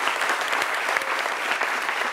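Loud, sustained applause from a studio audience on a midday television show, thick continuous clapping with scattered sharper claps standing out and no talk over it.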